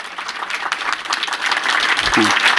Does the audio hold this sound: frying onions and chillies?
no